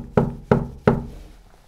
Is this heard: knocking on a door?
yes